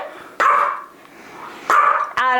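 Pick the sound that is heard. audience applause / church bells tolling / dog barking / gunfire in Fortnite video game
dog barking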